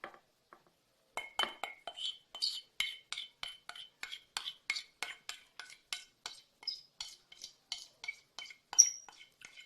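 Flour and dry ingredients mixed in a bowl, heard as a rapid steady series of light clinks and scrapes from a utensil against the bowl, close and quiet after a brief pause at the start.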